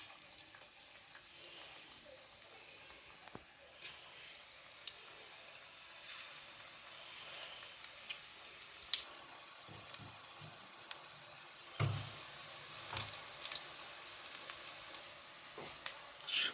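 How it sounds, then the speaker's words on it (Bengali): Onion fritters (piyaju) frying in hot oil in a wok give off a steady, soft sizzle with scattered small crackles and pops that swell slightly toward the end, with no talking. "তেলটা গরম হয়ে গেছে, এবারটা বড়াগুলো দিয়ে দিলাম।"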